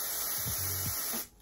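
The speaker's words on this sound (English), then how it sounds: "I'm just gonna take my Got2B and I'm just gonna spray them" A single short burst of Got2B hairspray aerosol hissing steadily for about a second, close by, then cutting off abruptly.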